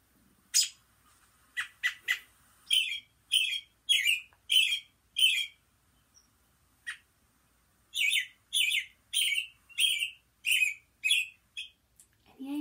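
Repeated bright chirruping American robin calls in clusters, a run of about seven, a pause, then another run of six, clear and fairly close in a quiet setting.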